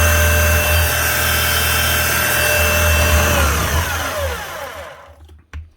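An old Hitachi DH50MR demolition hammer, leaking grease, runs steadily with a loud, dense motor whine and grinding buzz for several seconds, then spins down to near silence with a couple of faint clicks.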